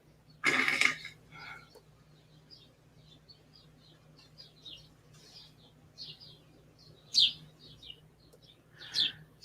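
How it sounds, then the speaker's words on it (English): Scattered bird chirps and tweets outdoors, a few louder calls among fainter distant ones over a quiet background hum. "I do hear a lot of birds at your house, WyzGyz."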